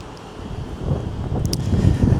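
Wind gusting on an overcast day in a remote part of Moscow, a steady low rumble of buffeting against the microphone that builds slightly louder toward the end.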